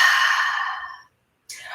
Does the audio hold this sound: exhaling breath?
yes